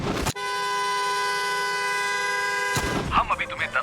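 Car horns blare in one steady, loud, unbroken honk for about two and a half seconds during a fundraising event, then cut off as voices and commotion take over.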